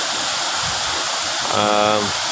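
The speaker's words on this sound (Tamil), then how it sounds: "இங்கே அருவி கூட கொட்டிக்கிட்டு இருக்குது" A waterfall at Anaimedu near Tharamangalam pours in a constant, loud broadband rush throughout, with a brief tonal sound rising over the roar near the end.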